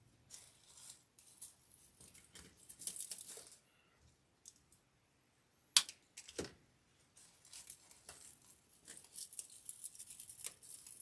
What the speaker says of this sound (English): I'm going to trim my stems down.